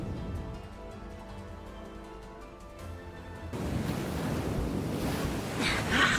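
Ocean surf in the Love & Deepspace game rushes in as a broad, loud wash of waves after a quieter musical stretch, close and continuous.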